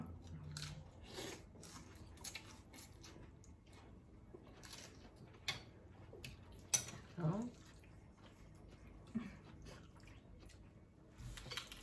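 Close, quiet chewing and biting of food during a meal, with soft crunches and wet mouth sounds, occasional clinks of dishes and cutlery.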